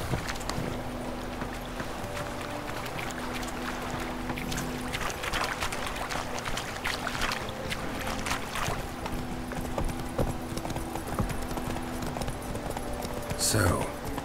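Horse hooves clip-clop steadily while riding in The Witcher 3, a continuous moderate patter of hoofbeats with ambient game sound and a brief louder thump near the end.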